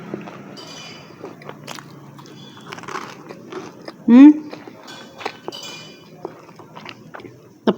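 Crunchy bites and chewing of crispy flour-battered fried chicken seasoned with coriander, close and sharp crackles over quiet room sound, with one brief louder vocal burst midway as someone talks.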